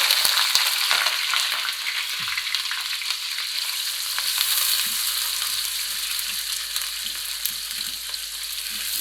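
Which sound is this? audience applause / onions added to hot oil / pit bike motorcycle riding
onions added to hot oil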